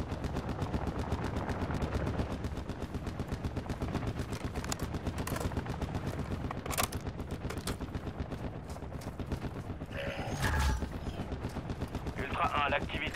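Nearly continuous automatic gunfire in Call of Duty: Modern Warfare II on a rescue mission, rapid rattling bursts at a steady level through the whole clip with a few sharper cracks and brief radio chatter.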